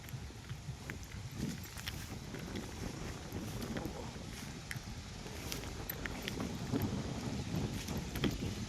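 Wind blows steadily outdoors across an open residential lot on a barangay road, a constant low rushing buffet close on the microphone, with no speech.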